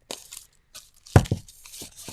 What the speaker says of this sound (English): Okay, I'm going to open it. Sorry if there's rustling.